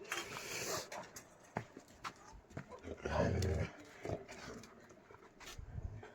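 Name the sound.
dogs barking at night in an Uttarakhand village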